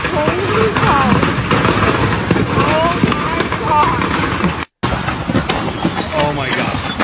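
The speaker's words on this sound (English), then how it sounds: "this car just freaking drove into the fireworks place." Fireworks burst in dense crackling volleys after a car crashes into a fireworks store, the explosions continuous and loud, with excited voices talking over them.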